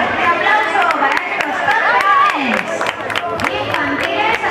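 Crowd applauding children's race winners at a night race in Turre, with scattered claps and cheers over a busy murmur of chatter and voices throughout.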